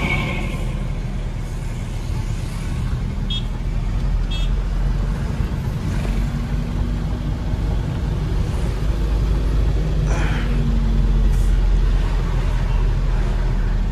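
A truck's steady engine and road rumble, loud and continuous throughout a highway drive, with faint horn toots and a brief passing vehicle sound in the background.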